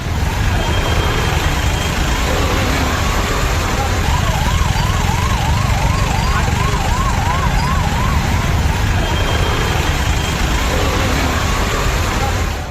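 An ambulance siren wails faintly through the din of heavy rain and jammed traffic on a Chennai highway, its rising and falling tone repeating for several seconds under the constant roar of downpour.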